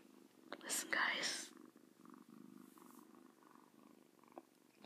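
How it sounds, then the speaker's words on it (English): A young kitten purrs softly and steadily up close, a faint low rumble under quiet whispered talk and brief rustling. "Yeah, you're purring."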